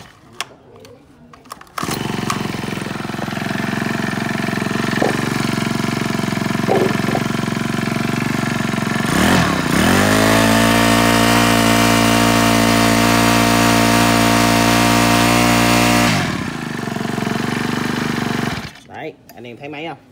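A Japanese brush cutter head engine runs steadily at close range, a small two-stroke drone that revs up sharply midway, holds a high buzzing pitch for several seconds, then drops back to idle and cuts out, with talk over it.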